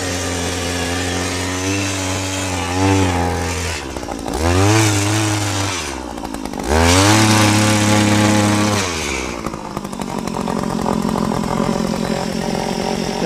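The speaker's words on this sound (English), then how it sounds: "I was able to dig a hole 8 inches in diameter" Toro gas-powered 8-inch auger digging into damp sand, its small engine droning loud and close with steady harmonics, surging twice in pitch and load as the bit bites deeper, then settling back to a rougher idle.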